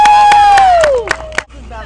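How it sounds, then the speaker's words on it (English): Audience at a faerie fashion show during the Maryland Faerie Festival breaks into loud, steady crowd cheering and whooping under a bright whistle or shout, with a few sharp claps and yells, fading near the end. "How about a round of applause?"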